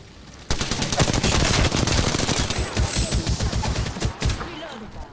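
Rapid bursts of close automatic gunfire in Apex Legends crackle almost continuously after a brief quiet start, dense and loud with overlapping shots throughout.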